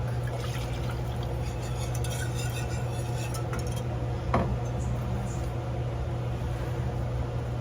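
A cup of milk is poured into a pan, giving a steady liquid wash with a few faint utensil clinks and one brief knock partway through.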